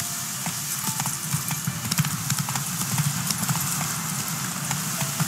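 Roach the horse gallops in The Witcher 3, steady rapid clip-clop hoofbeats close and continuous, with a faint background engine-like rumble and no talk.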